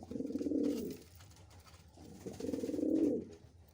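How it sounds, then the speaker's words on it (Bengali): A male Chuachandan pigeon coos twice, each throaty, rolling phrase lasting about a second with a short pause between, near and fairly soft, with no one speaking. "এটা হচ্ছে একটা নর কবুতর।"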